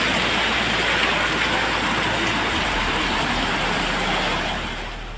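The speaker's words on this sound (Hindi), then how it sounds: "लगातार बारिश से पूरे शहर में बाढ़ जैसे हालात हो गए।" Heavy rain pours steadily during flooding in a city in Rajasthan, a dense continuous hiss close to the microphone with a faint rumble of road traffic beneath, easing slightly in the last second.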